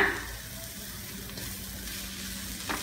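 Broad bean curry (avarekai palya) with lemon juice, stirred in a pan, giving a soft continuous sizzle with faint stirring, brief and close.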